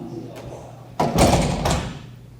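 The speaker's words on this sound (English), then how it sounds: "I'll just wait for the doors." Doors open or close at a reality-competition elimination, with a soft mechanical thud and a sliding rush that swells at once and lasts about a second, over quiet room tone.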